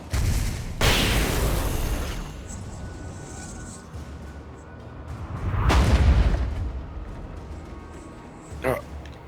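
Two heavy booms from flashbang grenades in the video game Alan Wake Remastered, each a loud burst that rumbles and fades over a couple of seconds, with a softer pop near the end.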